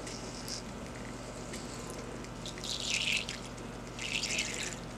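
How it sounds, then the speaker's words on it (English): A little water is poured into a tarantula enclosure: two short, faint splashing trickles close by, over a quiet room background. "Now I'm just gonna add a little bit of water."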